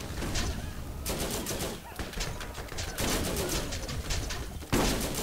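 Rapid gunfire rattles through a firefight in Borderlands, dense overlapping shots running almost continuously with brief lulls, loud and busy throughout.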